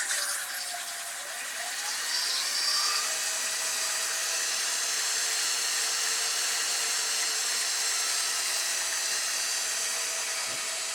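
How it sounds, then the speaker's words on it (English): A drill run in reverse at slow speed whirs steadily with a high, smooth rotary hiss as a sanding pad rubs against a turned wooden bowl, continuous and close. "We got the drill going in the opposite way at a slow speed."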